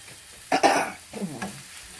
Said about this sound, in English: I've returned my pan to medium-high heat. Put some olive oil in it. And now, I shall add mushrooms.